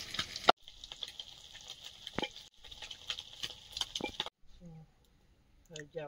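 Bengali panch phoron (five-spice) sizzling in hot oil for a curry, a steady crackling hiss in several bursts with brief pauses, while people talk nearby.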